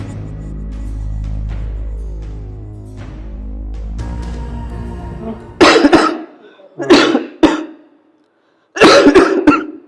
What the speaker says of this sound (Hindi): अरे इतने तेज खांसी आ रही है तो दवाई क्यों नहीं ले लेता?